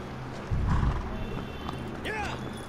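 A horse in Shadow of the Colossus gives a burst of heavy thumping footfalls, followed by a short rising neigh, with game ambience behind and a voice talking.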